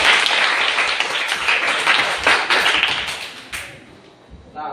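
A classroom of students claps together in a dense, close burst of applause that holds for a few seconds, then thins out and fades to scattered claps.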